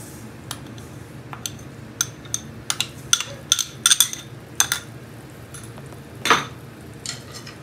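Semolina is stirred in a pan over a low flame, with a spoon repeatedly scraping and clinking against the metal in irregular taps over a faint background hiss.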